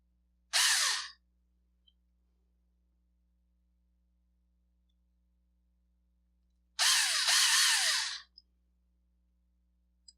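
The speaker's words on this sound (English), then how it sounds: "I normally don't use even a drill this powerful" Two short bursts of a power drill whirring as it drives screws into a mortise lock cylinder, about six seconds apart, with near silence between them.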